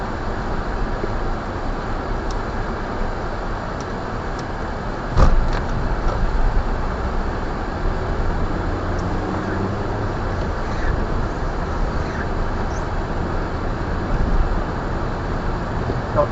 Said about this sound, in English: Got the fans on high at the moment